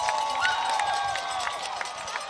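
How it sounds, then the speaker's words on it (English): A football stadium crowd cheers and roars after a Bobcats win at night, a dense, loud wash of voices with scattered claps and whoops. "Listen to this crowd."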